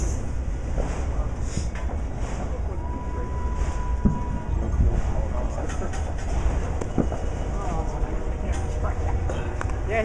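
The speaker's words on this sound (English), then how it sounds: "here comes Amtrak" An Amtrak train passing during New Year's Eve railfanning, a steady loud rumble with rhythmic wheel clatter sustained throughout, with voices chatting over it.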